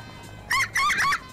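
A person's voice imitates bird calls during a gaming voice chat, giving three short, loud, chirpy warbling bursts in quick succession over faint background hum.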